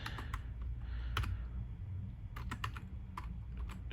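Someone types a command on a computer keyboard in quiet, irregular bursts of soft key clicks over a low room hum, with no talk.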